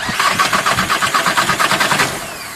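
A diesel engine with a Bosch VE injection pump cranks and fires after a head seal repair, giving a rapid rhythmic chugging that runs loud and close for about two seconds before easing into a quieter idle.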